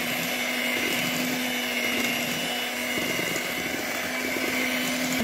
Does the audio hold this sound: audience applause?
no